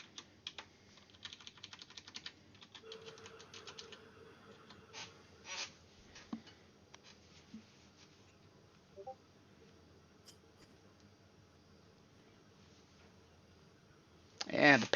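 Fast, light keyboard typing clicks in rapid bursts early on, then sparse single key taps, faint and slightly distant in a quiet room, with a louder clatter at the very end.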